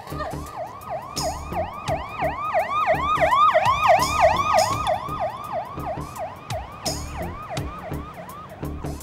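An ambulance siren wails in a steady, fast-cycling rise-and-fall pattern, loud and close throughout, in a 2002 Mexican drama.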